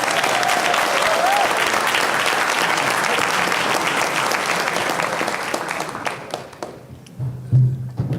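Audience applause at a hip hop and politics conference session, dense and sustained clapping from a large crowd, tapering off in the final seconds as a voice begins.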